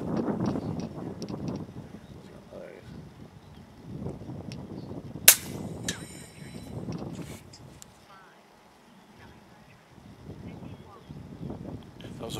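Impact .30 caliber air rifle firing a 50 grain slug, a single sharp crack standing out over quiet outdoor background, with someone talking before and after the shot.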